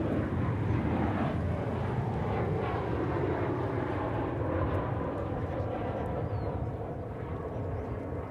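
A steady, broad roar of an airliner, the Fresno flight, at Dallas/Fort Worth Airport, heard from a distance with the jet noise holding fairly even throughout.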